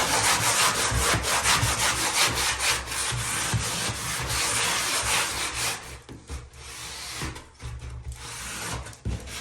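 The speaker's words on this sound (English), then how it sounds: "you just go scuff this on the sidewalk," Sandpaper is scuffed back and forth on a concrete sidewalk outdoors in rapid, close, gritty strokes. The abrasive rasping runs continuously and eases slightly toward the end, with no voices.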